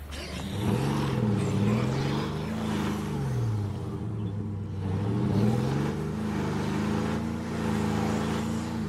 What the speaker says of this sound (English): You should be able to turn your engine off when you stop as well, because you're still attracting noise.